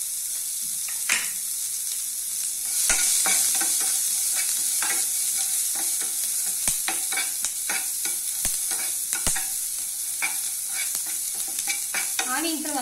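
Onions and curry leaves frying in oil with a pinch of asafoetida, a steady hissing sizzle with scattered crisp spatula clicks and scrapes, close up and alone without speech.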